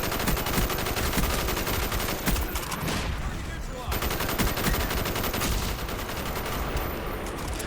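Rapid automatic gunfire in a Black Ops match on the Nuketown map, dense bursts of shots firing almost continuously at close range, with a brief pause near the middle before the shooting resumes.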